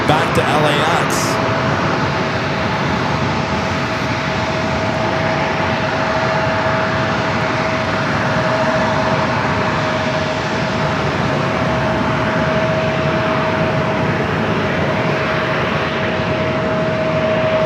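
Boeing 737-800 jet from Seattle at San Diego airport, a loud sustained engine roar with a steady whine tone held throughout, people talking over it in places.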